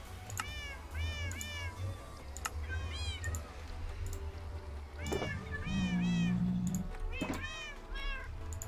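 Cats in the Minecraft video game meow several times in short clustered bursts, fairly clear over a low steady background hum, with a brief voice in between.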